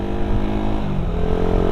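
Suzuki Satria FU motorcycle idling with a standard Barong exhaust fitted through a type C header pipe and adapter, giving a loud, steady, slightly tinny engine drone close by with no speech.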